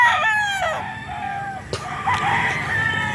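A farm rooster crows loudly nearby, a rising drawn-out call followed by clucking and a sharp knock, with other fowl faint in the background.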